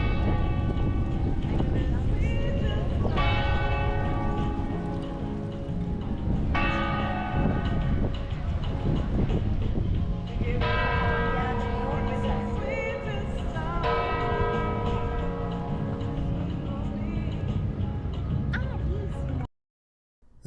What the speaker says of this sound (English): The bells chime every 15 minutes